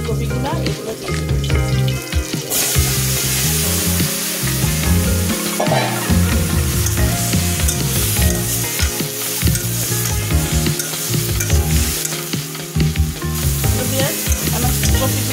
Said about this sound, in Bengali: আমার কপিগুলো ভাজা হয়ে গেছে